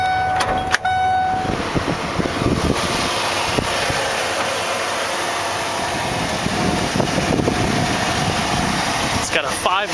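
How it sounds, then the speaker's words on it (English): A 1996 Ford Bronco with a 5-liter electronic fuel-injected V8 runs steadily with the hood open, a constant engine drone with a few clicks near the start, under continuous talking. "It's got a 5-liter electronic fuel-injected V8."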